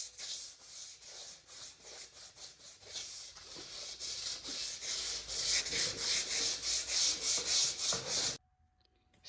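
Body filler on a car panel being block-sanded with 120-grit sandpaper, a steady rhythmic rasping of repeated strokes, close and loud, that grows stronger partway through and then stops abruptly near the end.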